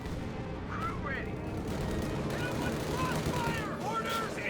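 Rockets and gunfire in a Company of Heroes 2 battle, a continuous rumbling din of shots and blasts, with voices talking over the top.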